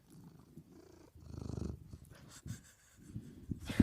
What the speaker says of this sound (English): I wonder if the mic will pick up his purring.